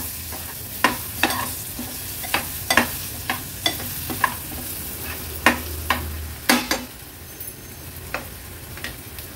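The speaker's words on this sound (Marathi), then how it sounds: "आता वाटण पण तेलावर परतून घ्यायचे।" Dry coconut paste and chopped tomato sautéing in hot oil in a pan, with a soft steady sizzle and a series of distinct scraping stirs at irregular intervals, close and fairly loud, no talking.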